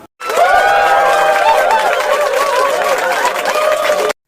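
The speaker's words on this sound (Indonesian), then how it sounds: "Sorak gembira terdengar kala mendengar bahwa Purbasarilah yang memenangkan sayembara pertama." A school audience at a children's musical drama of Lutung Kasarung cheers and shouts with joy when Purbasari is announced as winner of the first contest, a loud continuous crowd roar of mixed young voices lasting several seconds.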